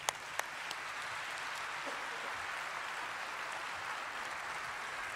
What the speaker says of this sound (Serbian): Veliki aplauz, molim vas